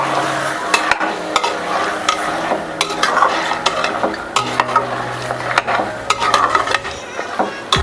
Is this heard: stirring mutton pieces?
yes